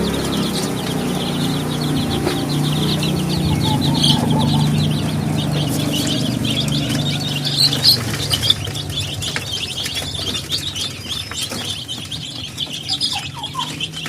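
One-week-old chicks gather at a plastic spill-proof DOC feeder, their steady high chirps and peeps running close and continuous over a low rustling hum, with scratching and pecking clicks growing busier toward the end.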